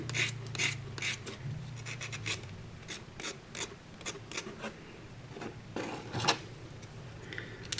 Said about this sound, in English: get your sandpaper and just shape it to the angle you want